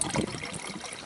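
Water trickles and splashes steadily into an AeroPress, a short, close pour with no voices.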